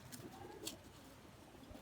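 Pigeons coo softly in a rooftop loft. A couple of faint chirps sound over low ambient hiss. The whole thing is quiet and short.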